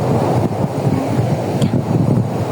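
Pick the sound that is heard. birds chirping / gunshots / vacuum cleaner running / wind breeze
wind breeze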